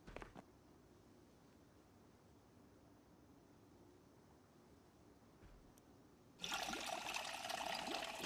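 Tap water running in the Project Zomboid video game, a steady loud hiss of flowing water that starts abruptly near the end after a quiet stretch.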